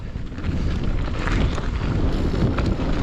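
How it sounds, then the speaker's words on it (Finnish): Strong wind roars steadily against the microphone at a bike park, a dense, rumbling gusty noise throughout with no voices. "Tuuli on kyllä älytön."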